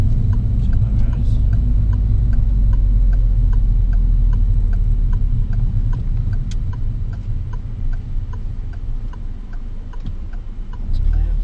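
A car's turn signal indicator ticks in a steady, even rhythm inside the cabin, faint over a loud, constant low engine and road rumble.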